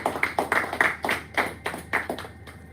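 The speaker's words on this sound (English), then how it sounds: "let's give Oloma a round of applause" A small audience at a pitching session claps in a loose, uneven rhythm; distinct, fairly close claps come roughly three to four per second with no talking.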